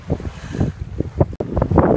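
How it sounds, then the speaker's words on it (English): Wind buffets the microphone while waves slap around an Island Packet L24 electric boat cruising Tampa Bay, in gusty, uneven surges with brief lulls, loud and close. "the wind's picked up, and so have the waves"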